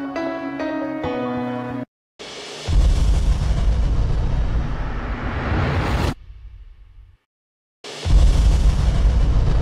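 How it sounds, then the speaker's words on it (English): A heavy explosion effect in a metal-style music mix roars in broadband bursts with deep low-end rumble, cutting to brief silences between loud sustained blasts, preceded by a short piano-like tonal passage. "I've moved the final explosion to another track because it requires a different amount of compression"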